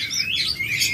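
Caged birds kept for sale chirp in quick, high, overlapping tweets during a brief moment, close by and fairly loud over a low background murmur.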